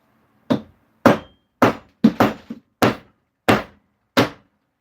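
A hammer strikes a 2024 American Silver Eagle coin ring nine times in a close, loud, steady series of sharp metallic whacks, with a quicker double tap near the middle and no talking.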